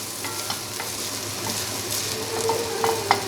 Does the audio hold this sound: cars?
no